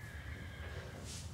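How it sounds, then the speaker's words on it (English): A horse whinnies in the video game Autumn Riders, a faint drawn-out neigh over a low background rumble, quiet and alone without speech. "Then you move the brush to the horse's side."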